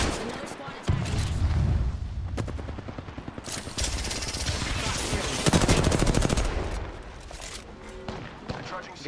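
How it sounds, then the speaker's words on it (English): Bursts of automatic gunfire from the Apex Legends video game during a ranked match, rapid cracking volleys repeating across the clip, loud and close, with a player's voice talking over the shooting. "Shots fired. And they're hitting me."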